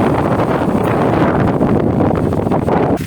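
Wind blowing by a river, buffeting the microphone in a steady, rough roar with slight gusts.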